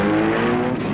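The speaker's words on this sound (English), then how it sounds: "We got into the car and roared off." A cartoon car roars off on the way to the hospital in Peabody's Improbable History, a loud continuous engine rumble with a rising hum that fills the whole moment without pause.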